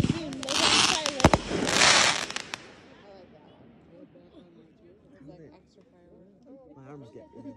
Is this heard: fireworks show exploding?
yes